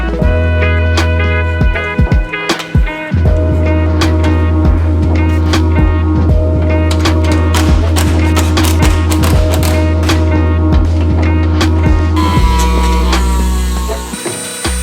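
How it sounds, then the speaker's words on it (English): Dremel rotary tool running in the engine bay of an A90 Toyota Supra, cutting to reach bolts under a plastic piece: a loud, steady high-pitched whine with rattling clicks and brief pitch shifts, close up, no talk. "But John, why are you using a Dremel on your new Supra?"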